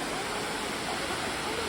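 Steady, dense roar of a three-level waterfall flowing down toward an old infinity pool, close and continuous without a break, covering everything else.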